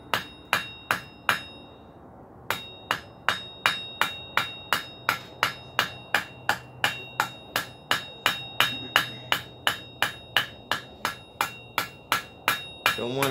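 A blacksmith's hammer forges a hot 5/8-inch round steel bar on an anvil, ringing out loud, evenly spaced strikes close by. After a brief pause near the start, about thirty blows follow in a steady rhythm.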